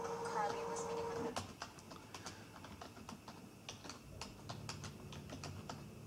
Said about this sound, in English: you can type in your transcription